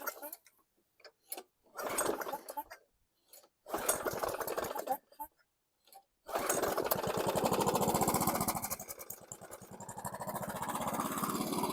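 A 2016 Craftsman Platinum 725 lawn mower engine sputters through several short bursts, then catches and runs steadily with a loud, close, rapid chugging that wavers toward the end.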